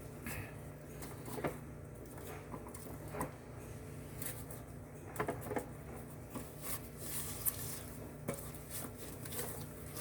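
Spatula scraping down cream cheese cake batter with egg yolks in a bowl, quiet intermittent scrapes and light knocks over low kitchen background hum.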